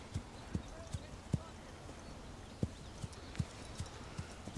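Horse hooves walking, a faint, uneven clip-clop of single hoof strikes heard from a distance over a low background hiss.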